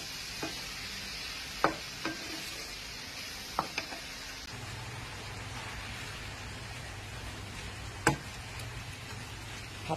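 Stir-frying in a pan with old-style chili, a steady close sizzle with occasional sharp scrapes and clacks of a utensil against the pan, no talk.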